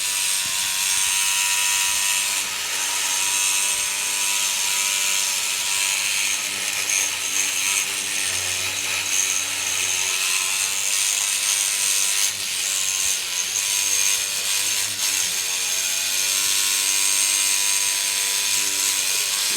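A Rubbermaid power scrubber grinds continuously against a grimy, stubborn spot, giving a steady high-pitched whirring buzz that stays loud and even throughout, with no talking.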